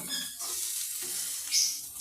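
Red lentils frying in a pan for a bitter gourd dish, giving a soft continuous sizzle with faint scraping, close and fairly quiet.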